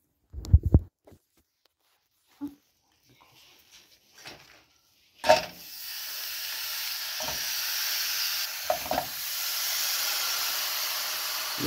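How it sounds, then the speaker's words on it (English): Ground beef hamburger meat dropped into a hot pan, a few sharp thumps and clatters at first, then a steady close sizzle of frying with occasional scrapes. "let's start by throwing in the hamburger meat"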